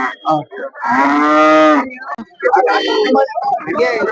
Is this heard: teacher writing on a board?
no